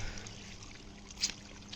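Water poured from a bucket onto vegetable plants in a home garden splashes in a steady, close wash, with a brief louder splash near the end.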